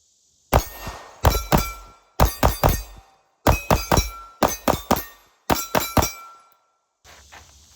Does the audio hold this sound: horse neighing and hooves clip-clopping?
no